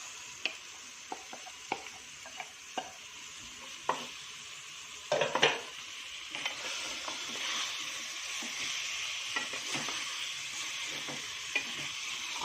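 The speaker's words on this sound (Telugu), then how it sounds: "ఆయిల్లో ఒక 5 నిమిషాలు ఇలా వేసుకోవాలి" Marinated chicken pieces fry in oil over a high flame for a Telugu-style chicken curry. A close, continuous sizzle is broken by repeated sharp stirring clacks and scrapes, growing busier partway through, with no voices.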